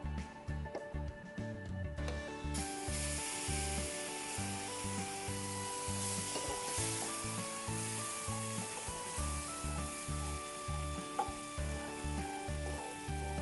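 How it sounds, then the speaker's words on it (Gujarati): Water poured into hot ghee in a pan while making a pineapple sweet roll, a steady close sizzle and crackle with faint stirring scrapes running throughout, no voices. "હવે આની અંદર આપણે પાણી ઉમેરીશું."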